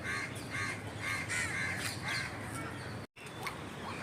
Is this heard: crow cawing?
yes